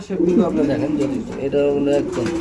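Pigeons coo in soft, rolling calls close by at a pigeon sale, overlapping with people talking.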